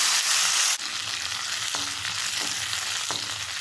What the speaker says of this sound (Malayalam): ഇനി ഇതിലേക്ക് ഉണക്ക മുന്തിരിയും കൂടി ഇട്ട് കൊടുക്കാം